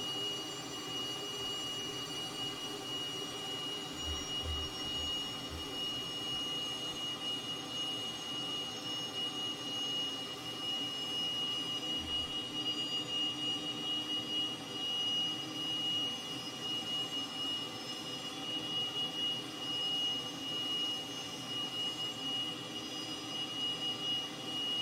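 A Cessna T-37 Tweet's jet engine whines in Microsoft Flight Simulator 2020 on landing approach, a steady high-pitched turbine hum with a constant roar underneath, unbroken and even in level, with no talk.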